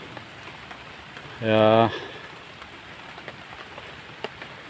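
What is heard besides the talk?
rain falling on a vegetable garden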